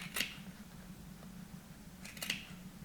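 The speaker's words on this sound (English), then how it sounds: "I usually like to, first of all, cut in to all of the points." Scissors snip through fabric while cutting into the points of a lips-shaped welt pocket, two crisp close cuts about two seconds apart over a steady low hum.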